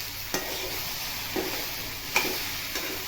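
Okra (bhindi) being stirred and sautéed in a pan, a continuous low sizzling hiss with a few sharp scrapes of a spoon against the pan, close and moderately quiet.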